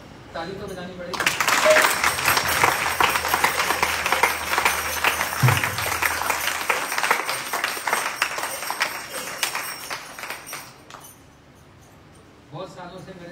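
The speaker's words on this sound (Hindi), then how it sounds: "ताली तो बजानी पड़ेगी।" An audience at a home kirtan gathering breaks into sustained applause, dense loud clapping that swells in after a second and carries on for about ten seconds before cutting off, with voices around it at the start and end.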